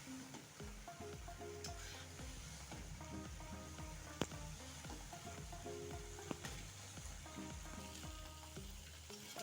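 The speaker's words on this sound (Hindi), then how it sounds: "पकौड़ियों को हम उलटते पलटते गोल्डन ब्राउन कर लेंगे" Pakoras bubble and sizzle in hot oil, a busy continuous crackle with scattered spatters and light scraping as they are turned toward golden brown, heard close with no voices.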